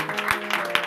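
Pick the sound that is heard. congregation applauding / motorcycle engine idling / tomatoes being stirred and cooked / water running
congregation applauding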